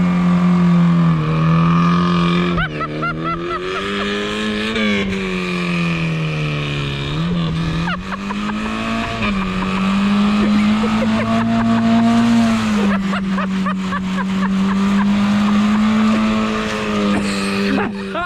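Hard launch out of the clutch in a car, with a loud, steady engine note rising and falling in pitch across the run, the revving held close and strong throughout.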